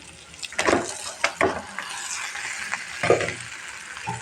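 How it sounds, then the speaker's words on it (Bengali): Noodles tipped into a hot pan for a meat noodle snack, with sizzling and stirring clatter in a few bursts at close range, no talk. "এখন বন্ধুরা নুডলসটা ঢেলে দিব আমি"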